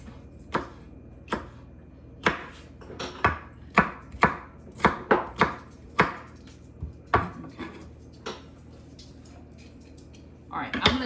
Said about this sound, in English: I'm just going to cut them up and put them in freezer bags